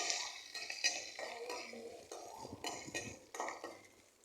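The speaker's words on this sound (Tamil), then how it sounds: "நல்லா வதக்கிக்கோங்க நல்லா வதக்கிக்கணும்" Tomato chutney ingredients being sautéed and stirred in a pan, with repeated soft scraping and clinking of a spoon against the metal, fairly quiet and close, over a faint low sizzle.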